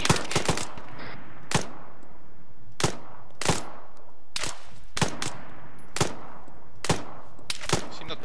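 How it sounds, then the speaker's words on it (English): Gunfire in the video game Arma 3 during a night firefight: about a dozen sharp, loud single shots at irregular intervals, some in quick pairs, separated by near silence. "Still getting fire from south"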